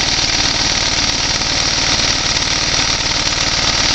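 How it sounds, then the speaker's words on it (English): A homebrew 1.8 kW inverter-generator engine idles under very light load, a loud, steady, close putter with a fast even pulse throughout, no talking. "I can slow it down to idle under very light load."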